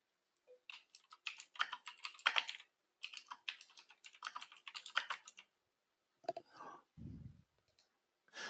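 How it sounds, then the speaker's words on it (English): Quick bursts of typing on a computer keyboard, close and fairly quiet, in two long runs of clicks with brief pauses, followed by a few scattered keystrokes and a low thump. "so I got to type him back an answer"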